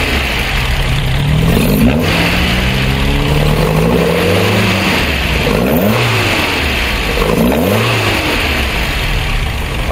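A classic Alfa Romeo 105 Giulia step-front four-cylinder engine revs repeatedly from a lumpy idle, rising and falling in loud close blips with a rough, burbling tone between them.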